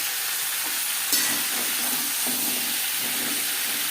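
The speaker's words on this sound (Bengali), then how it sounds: "যেহেতু আমি কম তেলে রান্নাটা করবো তাই আমি একসাথেই ভেজে নিচ্ছি।" Potatoes and pointed gourd fry together in a little oil with steady, soft sizzling, interrupted by a few brief stirring scrapes and one sharp clink.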